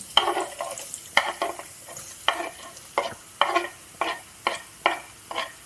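Chopped onion frying in a pan for spaghetti bolognaise, a sizzling bed broken by about a dozen regular, close scraping stirs of a utensil, one every half second or so, with no talking.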